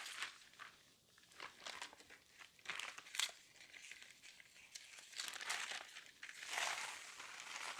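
Parchment paper crinkles and rustles up close while cookies are layered between sheets, in soft, irregular bursts of crumpling with brief pauses between handling moves.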